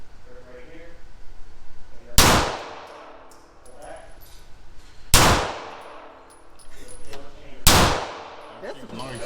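A Springfield Armory Prodigy 4.25-inch pistol fires three loud, sharp shots about three seconds apart, each with a ringing decay, and quiet voices can be heard between the shots.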